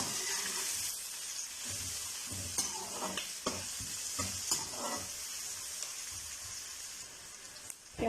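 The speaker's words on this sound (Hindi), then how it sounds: "साबुत कलियां लहसुन की, इनको भी हम साथ ही सौते करेंगे।" Whole garlic cloves and onion sautéing in a pan for a restaurant-style Delhi butter chicken, giving a steady sizzle with repeated stirring scrapes throughout, close and continuous with no talk.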